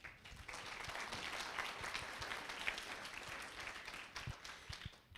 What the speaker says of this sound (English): let's give a big round of applause before we get started